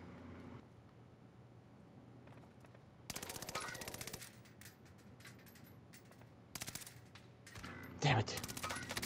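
Bursts of automatic gunfire in a first-person shooter video game, rattling in several loud volleys separated by quieter stretches, with a sharp louder burst near the end.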